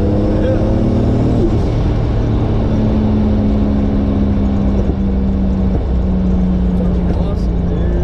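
Engine of a 650hp Lexus SC300 heard from inside the car, a loud sustained droning roar with rising and steady revving tones while occupants talk over it.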